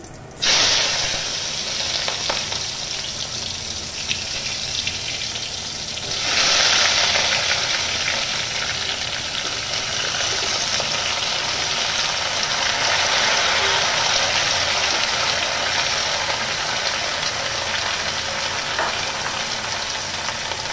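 Vegetables frying in a pan over a cumin tempering, a steady loud sizzle hiss that swells after a few seconds as more pieces go in, continuing without pause.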